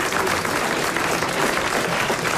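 A studio audience on a French radio game show applauds, a dense, fairly loud burst of clapping with no talk over it.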